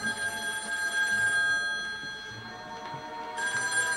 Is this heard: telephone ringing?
yes